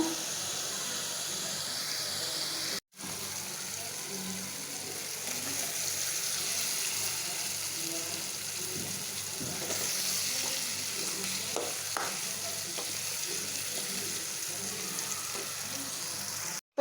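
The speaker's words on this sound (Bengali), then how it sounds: "এটা আমি ভালো করে কষায় নিমু" Fish sautéing in a pan with turmeric, chili, coriander powder and salt, a steady sizzling and frying hiss with occasional stirring scrapes, continuous throughout at close range with a brief gap early on.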